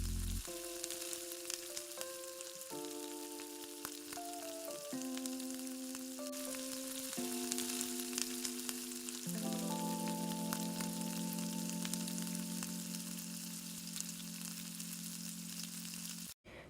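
Small red potatoes fry in a pan with cumin and coriander powder, giving a steady, soft sizzle throughout that sits beneath background music with sustained tones.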